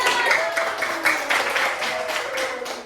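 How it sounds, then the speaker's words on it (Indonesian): A small group of students claps in a classroom before a group presentation, a short burst of scattered hand claps with tonal voices or hum faintly underneath. "Tepuk tangan"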